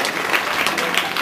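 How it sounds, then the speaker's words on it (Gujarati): An audience at a Swarnim Gujarat 2010 public event claps together, producing a dense, steady burst of applause that fills the short moment. "આપ સૌ તાળીઓથી વધાવીએ"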